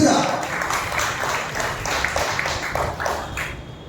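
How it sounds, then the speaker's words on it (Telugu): A church congregation at an evening united worship service claps loudly in a steady rhythm of repeated bursts, with a voice carrying over the claps throughout. "బిగ్గరగా చప్పట్లు కొట్టి ప్రభువును మహిమపరచండి"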